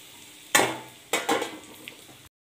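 Cashews go into ghee in a pan and roast with a few sharp bursts of sizzle and stirring clatter, each flaring loudly and then fading, close by with no talk.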